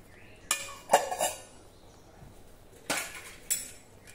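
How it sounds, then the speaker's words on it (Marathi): A cooking pot is set into a pressure cooker with a few sharp metallic clinks and knocks, spaced out over several seconds in a quiet kitchen. "आता हे भांडं आपण कुकर मध्ये ठेवू।"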